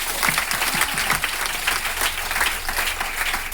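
Applause from an audience at a talk, a short dense burst of clapping from many hands, loud and close, with a faint voice underneath.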